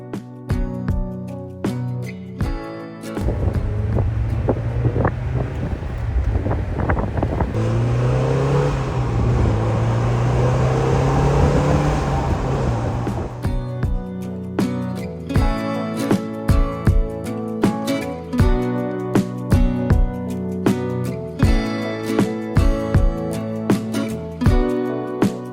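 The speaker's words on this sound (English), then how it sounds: "taking it for a quick test drive to see how it shifts through the gears" A 1999 Mazda Miata NB with a rebuilt Moss shifter on a test drive: the engine hums at idle, then revs up through the gears with rising and falling pitch and brief pauses between shifts, heard from inside the car without talk.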